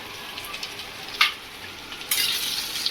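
Onion and chili stir-fried with chopped ginger, garlic and vegetables in a pan for chicken pishpash: a steady hot sizzle with occasional scraping stirs and brief louder bursts, close and alone.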